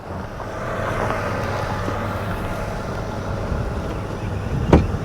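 A Ford Maverick Hybrid Lariat with front-wheel drive climbs uphill off road at full throttle, giving a steady, broad engine and road roar near the microphone with a sharp knock or thump near the end.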